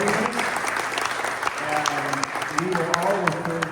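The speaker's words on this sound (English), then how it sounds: "let's give Vitaly a big round of applause" An audience at an orchestral talk with conductor Vitaly Starikov applauds warmly, with dense clapping continuing throughout while someone speaks over it.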